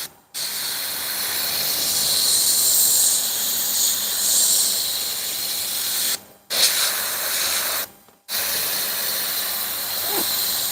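A steady, close airbrush hiss sprays paint onto a hoodie, cutting out briefly twice before resuming.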